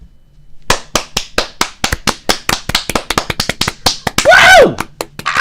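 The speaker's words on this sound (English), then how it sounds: "Should we clap it in?" A few people clap together in a run of sharp, close hand claps lasting several seconds, ending in a brief whoop or cheer as a talk show starts.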